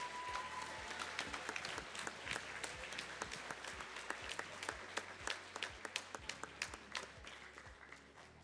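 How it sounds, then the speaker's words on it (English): Audience applause at a high school Decision Day 2024 ceremony, steady clapping from a crowd lasting the full stretch, with sharp individual claps standing out and faint background chatter underneath. "we'll give them a round of applause while we're waiting"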